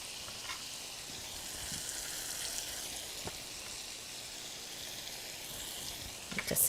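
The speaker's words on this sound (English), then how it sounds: "So now I'll add the potato in there." Potatoes sizzling in a frying pan with green beans and shrimp, a soft steady hiss at moderate level with occasional crackles and a clatter at the end.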